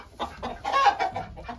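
An angry hen in a sawdust-lined nest box gives loud, close, agitated clucks and squawks in a short burst.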